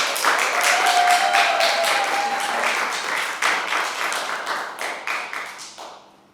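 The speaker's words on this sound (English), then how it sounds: "give her a warm applause" Warm audience applause and clapping for a poetry slam performer opening the show, dense and steady throughout before tapering off at the end.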